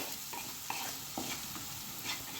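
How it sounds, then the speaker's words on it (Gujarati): Quiet, steady sizzling of onions sautéing until golden brown in a pan, with a few soft scrapes of a spoon stirring, the frying hiss low and close. "હવે ડુંગળીને આપણે સરસ ગોલ્ડન બ્રાઉન થાય ત્યાં સુધી સરસ સાતળી લેવાની છે."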